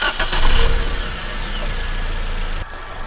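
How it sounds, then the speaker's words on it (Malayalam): A Maruti Suzuki Ertiga engine, checked for complaints after its plugs were reconnected, cranks and catches close by, then settles into a steady idle. "അപ്പോൾ എൻജിൻ വീണ്ടും ഞാൻ സ്റ്റാർട്ട് ചെയ്യാണ്"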